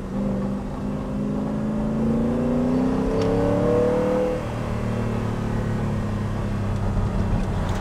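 A Spyker C8 supercar's engine hums and rises as it accelerates through a gear while driving along narrow lanes, a steady onboard drone with a rising pitch sweep before settling back.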